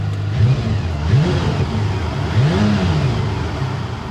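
Singer DLS restomod Porsche 911 with a 9,300 rpm engine, started with the key: a loud, close engine note with a few rising revs and a steady idle between them, with no talking.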